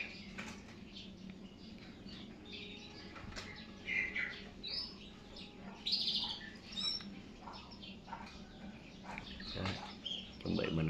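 Yellow canaries kept for breeding in Ho Chi Minh City give short, bright chirps and tweets scattered over a steady room hum, with a few louder bursts and no talk.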